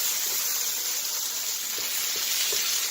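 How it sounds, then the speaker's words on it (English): Vegetables frying in hot oil for sweet and sour chicken, giving a continuous bright close sizzle with a few faint stirring knocks and no talk. "Okay, the vegetable has been cooking for over a minute."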